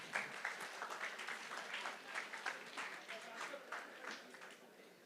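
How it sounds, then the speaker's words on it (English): An audience at a college quiz event claps in sustained applause, a dense crackle of many hands heard from a short distance, fairly quiet and fading a little at the close. "Huge round of applause, please."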